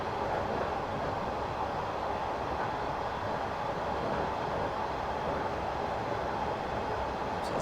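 A London Underground S7 train in a Train Simulator game rumbles steadily at low speed across a busy junction toward Baker Street on the Metropolitan Line, with a continuous loud rolling of wheels over track and no voices.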